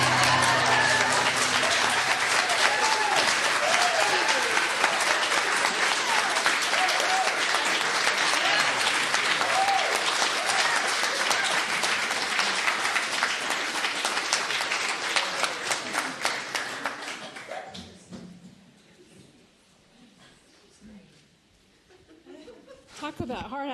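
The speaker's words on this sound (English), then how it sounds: "Now clap." Audience applause with scattered chuckles fills a service of poetry and song, steady dense clapping for about seventeen seconds before fading to quiet room sound.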